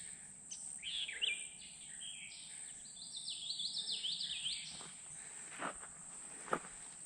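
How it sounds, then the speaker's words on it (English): Birds chirp and trill in quick bursts outdoors in a Florida wildlife corridor, set against a constant high insect drone, with a few soft footsteps and rustles nearby. "The birds are just chirping away."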